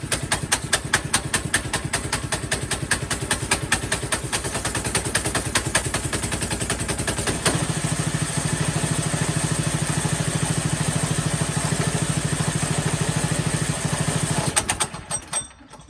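Mega Moto Max 212 mini-bike engine idling roughly, a loud, uneven rapid putter with a change in pitch halfway through before it cuts off near the end.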